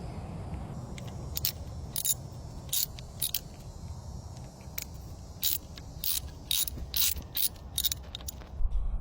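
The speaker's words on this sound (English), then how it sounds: "first we're going to be removing these bolts right here, which are 10 millimeter" Ratchet clicking in short bursts while loosening 10 mm bolts on a 2012 Yamaha 300 four-stroke outboard during prop shaft seal housing work, sharp near clicks in irregular runs over a low background hum.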